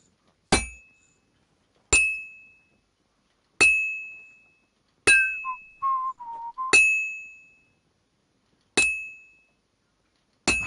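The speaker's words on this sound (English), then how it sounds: "I have to hammer it more evenly." Sharp metallic clangs of a hammer striking metal on a blacksmith's anvil in the game Kingdom Come Deliverance 2, seven evenly spaced ringing blows with a brief scraping tone between two of them, alone and fairly close.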